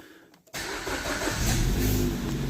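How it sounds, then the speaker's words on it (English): A car engine cranks briefly and catches, then settles into a steady, loud running hum during a diagnostic check. It starts abruptly after a quiet moment. "if I now start the car up"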